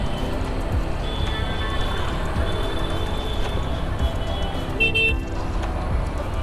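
Busy morning street traffic close by: engines rumbling continuously with several car horns tooting and honking at intervals.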